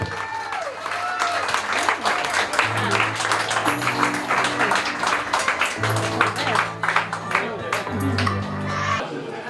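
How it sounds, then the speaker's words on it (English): Wedding guests applaud the newly married couple in a continuous round of clapping from a gathered crowd, with cheers and talking mixed in and music playing underneath. "please give yourself a round of applause for the happy couple"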